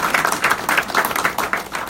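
Audience applause at a political party membership event: a dense burst of many hands clapping, fairly loud and close, with rhythmic pulses running through the crowd sound for a couple of seconds.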